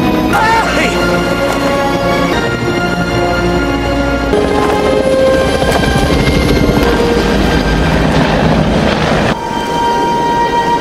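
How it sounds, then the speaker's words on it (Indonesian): A loud, steady helicopter roar fills the whole stretch, mixed with voices and other tonal background sounds. "tiba-tiba terdengar suara helikopter."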